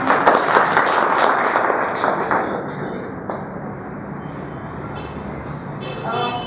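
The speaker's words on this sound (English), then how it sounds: "Can we have a round of applause?" A seminar audience at the Niryat Bandhu export program in Kolhapur applauds, with brisk clapping strongest at first that thins and fades out over several seconds amid room noise.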